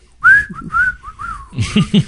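A person whistles a short, wavering tune of an old Irish Spring TV commercial, the clear notes rising and falling close to the mic, with a little talk and breathing underneath toward the end.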